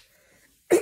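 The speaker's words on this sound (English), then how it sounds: "I had to clear my throat." A single short, rough throat clearing bursts out near the end after a quiet stretch.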